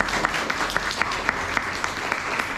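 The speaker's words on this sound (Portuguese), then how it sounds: "Essas palmas são para Jesus." A congregation applauds after a prayer in a religious gathering; moderately faint, sustained group clapping with a few louder individual claps standing out at a fairly regular pace.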